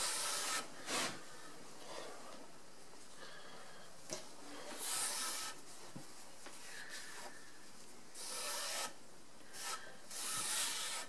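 A cloth rag brushes lacquer across a wooden surface in a repair shop, giving soft, close rubbing swishes in several bursts separated by quieter pauses.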